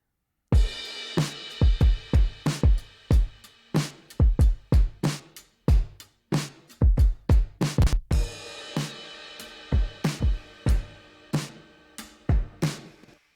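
A live acoustic drum kit picked up with a room mic plays a steady groove of sharp kick, snare and cymbal hits, roomy and fairly loud, with no voices.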